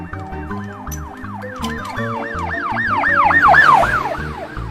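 A toy police car siren wails in fast rising-and-falling sweeps, close and loud, growing louder toward the end over a beeping electronic tune.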